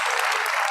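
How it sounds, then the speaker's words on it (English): Parents and audience clapping steadily at a pre-primary school convocation ceremony, a dense, continuous wash of applause with no voices over it. "Parents, please cheer our little ones."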